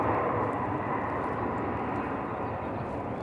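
A jet roars steadily at Raleigh Durham International Airport during a busy spell of arrivals and departures, a broad, loud engine rumble that holds evenly throughout with no voices.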